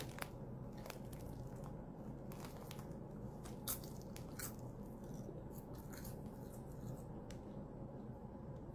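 Crunchy seaweed snack bitten and chewed close to the mic, a steady run of crisp crackling crunches with a few sharper bites, no talking.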